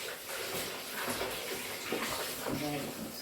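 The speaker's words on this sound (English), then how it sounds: "I always like to use some lemon to wash the meat" Water runs and splashes steadily as oxtail meat is washed with lemon or lime in a kitchen sink, a continuous moderate wash of sound with faint voice-like tones mixed in.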